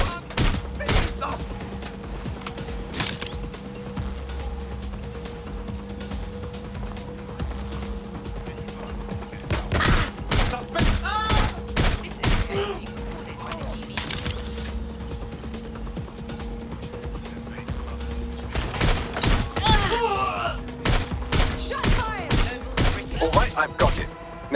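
Gunfire in the Watch Dogs: Legion video game: rapid bursts and scattered shots cracking throughout, with dense volleys near the middle and end, over a steady game soundtrack hum and voices shouting.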